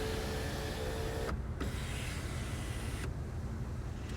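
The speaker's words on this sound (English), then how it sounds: "Then it opens the panoramic sunroof." The panoramic sunroof of an AMG C63s opening, a steady electric motor whir inside the car that pauses briefly and resumes, then stops near the end, faint and close with no talking.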